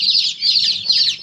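Baby chicks peep in a shipping box with a steady stream of high, overlapping chirps that rise and fall in brief waves, close and fairly loud, with no talking.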